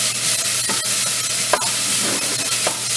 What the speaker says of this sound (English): you can see that my onions are getting caramelized